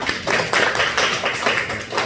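A small audience at a church gathering claps in uneven bursts, close and moderately loud, with no talking over it.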